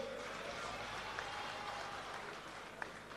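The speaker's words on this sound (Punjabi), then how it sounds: "ਹੱਸ ਲੋ ਹੱਸ ਲੋ ਪਰ ਤਾੜੀ ਠੋਕਿਆ ਕਰੋ ਠੋਕ ਕੇ" Audience applause at a Punjabi political gathering, a sustained, moderately distant wash of clapping holding steady for a few seconds.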